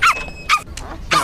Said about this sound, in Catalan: Sisplau, para de bordar!